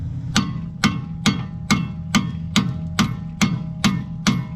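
Hammer striking the rear strut bolts on a Buick Lacrosse, eleven sharp metallic blows in an even, steady rhythm, close and clear with no talking.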